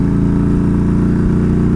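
A Yamaha V Star 1300 motorcycle engine pulls steadily while accelerating through a held gear, a loud, close, continuous low rumble with a deep throb, no voices.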